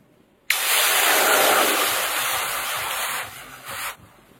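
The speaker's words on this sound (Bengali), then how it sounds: "কড়াইতে জল দিয়ে দেব।" Water poured into a hot wok after spices are dry-roasted bursts into a loud, close hiss that holds steady for about three seconds, then tapers off in a final rush.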